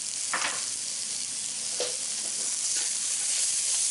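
Peppers and seasonings frying in a pan for a mushroom ackee rundown, a steady close sizzle with a few scraping stirs, no talking.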